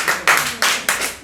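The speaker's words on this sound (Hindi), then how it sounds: "आप लोगों को स्काउट ताली बजानी आती है?" Students in a classroom perform a scout clap for a classmate at a Teachers' Day event: three sharp, loud group claps in a steady rhythm, each ringing briefly before the next.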